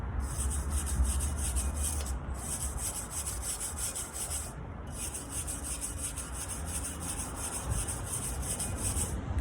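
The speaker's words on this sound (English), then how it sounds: "Some of the more flaky rust here will probably do a good go at with the wire brush" Wire brush scrubbing loose, flaky rust off a car wheel drum in harsh rasping strokes, with a few short pauses between bursts of fast back-and-forth scratching close by.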